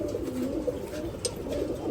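Female silver aluminium pigeons at a pigeon farm, soft low cooing repeated a few times at close range with light background noise.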